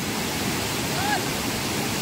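A monsoon waterfall in rural Konkan roars as a dense, steady wash of rushing water, loud and unbroken, with a faint bird-like whistle barely rising above it.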